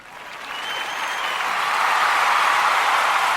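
Applause from a crowd starts moderately and swells steadily into a dense, sustained wash of clapping.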